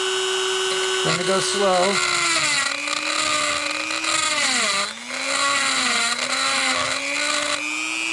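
A power drill with a carbide bit, cutting on its tip and sides, bores into a Mongoose bicycle frame for a motor kit. It gives a loud, steady whine whose pitch dips and rises as the speed changes, with a brief voice over it.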